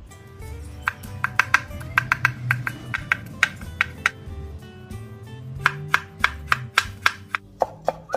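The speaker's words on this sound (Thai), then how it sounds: "หลังจากนั้นเราก็มาหั่นผักชีกันนะคะ" Knife chopping coriander on a cutting board, rapid sharp taps in quick bursts with a brief pause partway through, close and clear.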